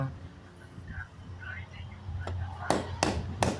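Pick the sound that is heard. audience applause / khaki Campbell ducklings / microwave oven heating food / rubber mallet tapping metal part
rubber mallet tapping metal part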